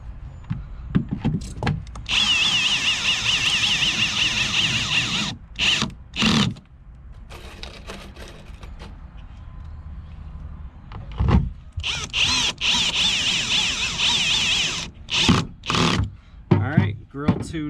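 A power drill whirs through fiberglass and plastic on a 2007 Chaparral Sunesta 214 boat in several bursts, some long and some short, with quiet pauses and handling noises in between.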